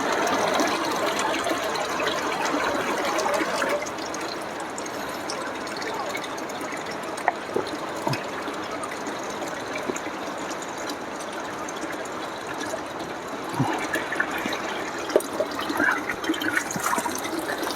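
Water from a mountain spring in the Saran Valley, Mansehra, flowing steadily in a continuous close rush with a few faint clinks and knocks.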